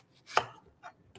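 A knife cuts down through a watermelon wedge, giving one sharp, close chopping crunch followed by a couple of quieter knife contacts.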